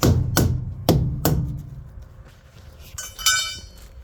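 A tool raps a truck's dual tires to check inflation, giving three sharp, ringing knocks in quick succession early on, followed by a quieter stretch and some light metallic clinking near the end.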